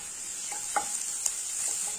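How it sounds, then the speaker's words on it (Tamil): Small onions and curry leaves frying in a pan, with a steady close hiss of oil and a few soft scrapes of stirring, no voices. "இந்த வெங்காயம் எல்லாம் வதங்கி வச்சு இப்ப அடுப்பை சிம் பண்ணி வச்சுக்கலாம்."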